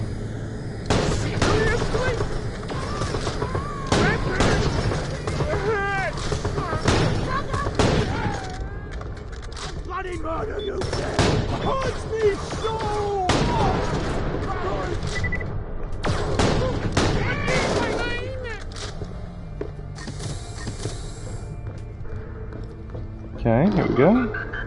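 Video game gunfire in Borderlands: The Pre-Sequel, with repeated sharp shots and bursts scattered through the clip, mixed with frequent talking over it.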